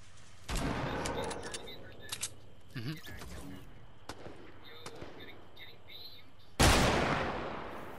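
Infantry rifle fire in a video game cracks out in scattered sharp reports, with an early burst, isolated shots in between and a loud final blast, while a voice talks briefly between them.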